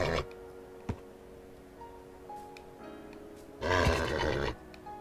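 A horse in the Minecraft video game gives a loud, rough neigh lasting about a second near the end, after a short click and a few faint game tones over a steady low hum.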